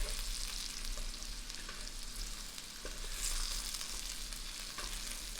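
Potatoes fry in oil in a pan, giving a steady, close sizzle with scattered pops and crackles that continue evenly throughout, with no talking.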